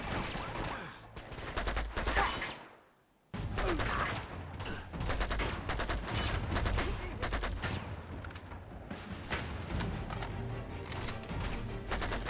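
Enemy sniper and other gunfire in the video game Uncharted 2: Among Thieves, a dense run of loud, sharp shots with one brief lull, then more rapid bursts.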